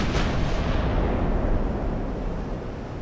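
Battleship main guns fire in Ultimate Admiral: Dreadnoughts: one heavy, booming blast rings out near the start and rolls away into a long, low rumbling decay.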